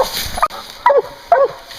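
Hog hunting dogs whimper and yip in short, high, bending cries, three or four bursts spaced across a couple of seconds over an outdoor background hum.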